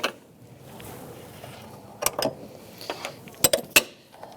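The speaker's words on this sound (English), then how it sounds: "Once we get it snug, we're going to snug it up more with our line wrench." A line wrench tightening a brake line fitting on a 2014-2018 Subaru Forester during master cylinder replacement, a few sharp metallic clicks and clinks close by over quiet background.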